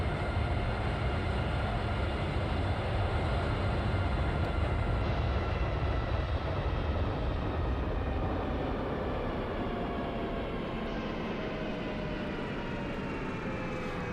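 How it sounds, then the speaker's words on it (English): Airliner jet engines on a JAR A320 in the X-Plane 11 flight simulator, a steady broadband roar with slowly sliding whine tones that hold for the whole stretch at even loudness; no talk. "the sound of the engines on this is pretty good"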